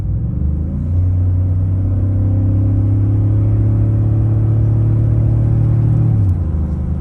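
A Ram truck with the 6.4 Hemi gas V8 pulls a trailer at half throttle, a loud steady interior engine rumble holding a sustained drone for several seconds before easing off near the end.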